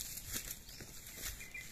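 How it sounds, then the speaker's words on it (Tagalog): Egrets flapping their wings in flight above a farm: soft, rhythmic whooshing wingbeats, fairly faint and close together, over light outdoor background noise. "ito yung mga tagak"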